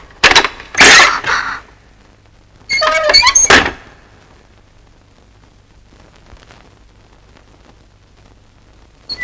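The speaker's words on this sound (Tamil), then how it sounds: "கதவு திறந்துடுறா." A door being opened: two short bursts of clattering and scraping, one right at the start and another a couple of seconds later, followed by near silence.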